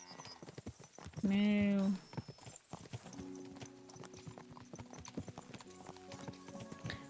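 Horse hooves clip-clopping at a walking pace in Kingdom Come Deliverance 2, a steady close rhythm joined briefly by a whinny, with a voice speaking over it.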